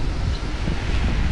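Strong wind at a shoreline where clams are being gathered buffets the microphone in a steady, loud roar with no pause and no voices.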